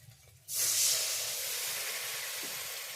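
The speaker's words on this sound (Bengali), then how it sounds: "একটু জল দিয়ে দিচ্ছি।" Water hits frying spice masala for an egg and potato curry and sets off a sudden loud, steady sizzling hiss that starts abruptly and keeps going, slowly fading a little over a few seconds.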